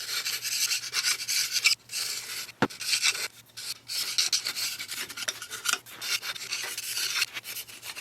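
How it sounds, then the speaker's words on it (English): Scraping old gasket and rust off the head gasket surface of a John Deere 1010 engine, a close, rasping scrape in repeated strokes with brief pauses between them and a sharp knock partway through. "I want to scrape this head gasket surface."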